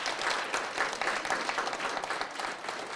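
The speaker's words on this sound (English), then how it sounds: "Give yourselves a round of applause for that." Audience at a Black History Month celebration in Delaware County gives itself a round of applause, dense, even clapping filling the whole stretch at moderate loudness.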